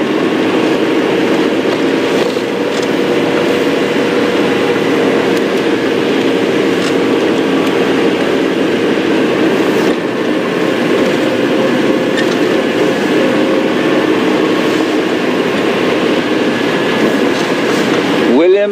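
A safari game drive vehicle drives quickly along a track near an airstrip on a morning drive, giving a loud, steady rumbling engine and rattling body noise that runs continuously, with faint talk underneath.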